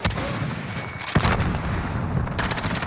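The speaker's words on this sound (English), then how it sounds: "Grenade out!" Grenade blast in Call of Duty Modern Warfare on the Shoot House map: a sudden, heavy boom about a second in, set amid loud continuous battle noise and scattered gunfire.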